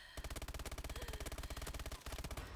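Automatic gunfire in a video game: a long, rapid, evenly spaced stream of shots that pauses briefly near the end and then resumes, fairly quiet overall, with no talking.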